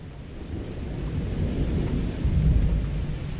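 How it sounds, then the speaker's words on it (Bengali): Rain and rolling thunder set a night storm scene in a rural-village horror tale, a steady rainfall wash under a deep continuous rumble that swells louder toward the end, with no voices. "রাতের দিকে বৃষ্টি আরম্ভ হয়।"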